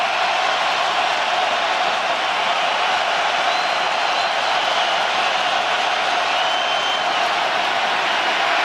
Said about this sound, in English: This crowd just woke up.